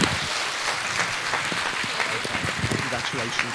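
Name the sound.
round of applause at a school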